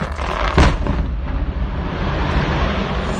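A quarry blast in Albury goes off with a sudden heavy boom, followed by a long rumbling roar and wind buffeting the microphone as the sound rolls away.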